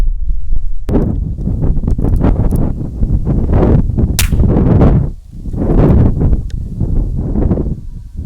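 Suppressed rifle or pistol shots fired while testing suppressors: a few sharp, muffled reports stand out against heavy, loud wind rumble from an outdoor range.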